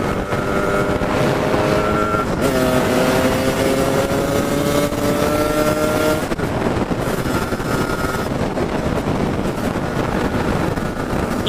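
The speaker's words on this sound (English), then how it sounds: "Carb's a little bit spluttery up at this sort of speed, but can't really complain." A Yamaha DT125 motorcycle ridden at speed with a slightly spluttery carburettor, its engine drone rising and falling in pitch under steady, heavy wind roar on the microphone, continuous and loud throughout, with no talking.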